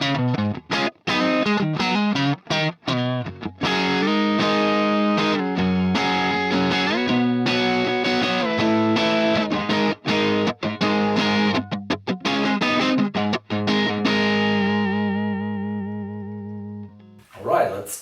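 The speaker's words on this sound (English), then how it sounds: "Let's start with the fuzzy cleans. Guitar volume is on 2." An electric guitar plays through a fuzz with the guitar volume rolled down to 2 for a fuzzy clean tone, picking out chords and single notes in a loose phrase that rings out and fades near the end.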